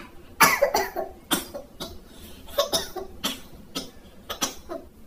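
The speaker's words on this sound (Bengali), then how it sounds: "কি ব্যাপার, এত কাশতেছো?" A person coughs repeatedly in a series of harsh, close bursts, some coming in quick clusters, over a faint background.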